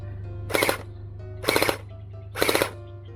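Three evenly spaced gel blaster shots, each a short sharp burst about a second apart, fired while the hop-up is adjusted, over a steady low hum with no talking.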